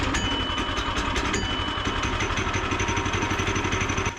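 A Woodland Mills sawmill engine runs steadily at a dense, loud idle, a continuous close-up mechanical drone with no pauses and no voices.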